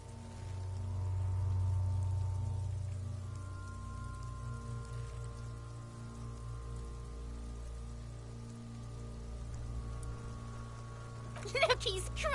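Steady rain falling in the video game Disco Elysium, a soft constant patter over a low hum, with a brief sharper burst near the end.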